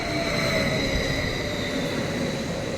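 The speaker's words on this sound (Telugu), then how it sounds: "మా ట్రైన్ వచ్చేస్తుంది." Austrian train pulling into a station platform, a steady loud rumble with sustained high whine and hiss throughout, no voices over it.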